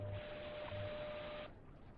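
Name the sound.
WWV time signal on 10 MHz via SDR receiver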